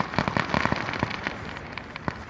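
Small consumer fireworks crackle and pop outdoors in a quick irregular series of sharp bursts, fairly faint and spread across the moment, with no voices.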